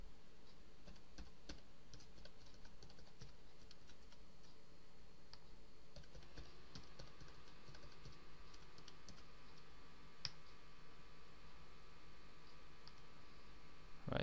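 Someone types a password on a computer keyboard, a quiet, continuous run of soft key clicks at an uneven pace with one sharper tap, close by in a quiet room.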